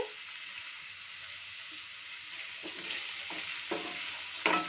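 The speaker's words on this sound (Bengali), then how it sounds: "পেঁয়াজটাকে ভালো করে ফ্রাই করে নেব আদা রসুনের মতন।" Onions fry in hot oil with ginger and garlic, a soft steady sizzle with a few scraping stirs of a spatula near the end, close up and without speech.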